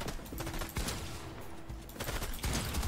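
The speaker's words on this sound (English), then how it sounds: "Okay, the boss is shooting at me now." Gunfire from a boss enemy in a heist video game, rapid bursts of shots layered into a dense fusillade that pauses briefly before resuming, loud and close.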